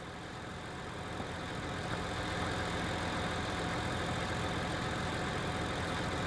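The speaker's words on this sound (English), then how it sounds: "we're going to jump in our tractor and head off" A tractor engine in the video game Farming Simulator 19 pulling away, a steady, loud mechanical drone that swells slightly at the start and then holds an even, continuous rumble.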